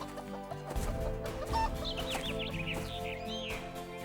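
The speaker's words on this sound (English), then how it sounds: "went out to feed the hen" A farmyard hen clucks close by, a run of soft clucks rising into higher, drawn-out squawking calls that carry over a steady low background.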